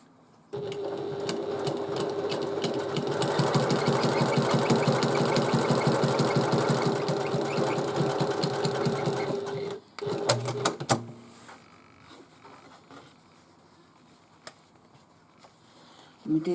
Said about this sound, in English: we need to attach the gusset pieces to the bottom panel, and we do that at 3/8 inch seam allowance